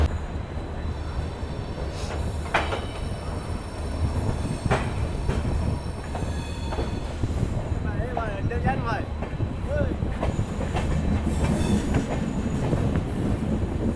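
The Bharat Gaurav premium deluxe tourist train runs on rails between Delhi and Guwahati. It gives a steady, close rumble with rhythmic clickety-clack and brief wheel squeals, and voices are heard over it.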